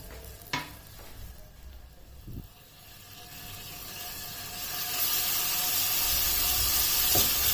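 Garlic ginger paste fries in about three tablespoons of oil in a pan over a flame, a steady sizzle rising to a loud, hissing crackle, with a few sharp knocks of a spoon stirring against the pan.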